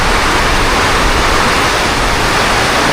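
Heavy typhoon rain from Basyang pours in a dense, steady roar, loud and close, with no break or change in intensity and no voices.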